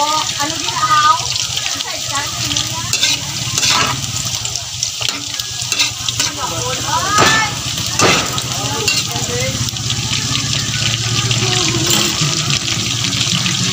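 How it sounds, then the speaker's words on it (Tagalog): Chicken pieces deep frying in hot oil for Bicol Express, a steady crackling sizzle with bubbling surges throughout, while someone talks over it. "Ito mga idol, ito na deep fry mga idol."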